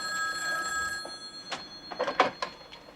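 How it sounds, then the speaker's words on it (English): A telephone bell rings in a sitcom home, a sustained electronic trill followed by a few sharp knocks and clatters, close and fairly loud with no voices. "Jenny, phone call."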